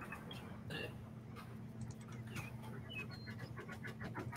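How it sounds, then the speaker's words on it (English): Faint bird chirps from a Train Simulator game, a few brief tweets scattered over a steady low locomotive hum and rumble. "I can hear the birds chirping."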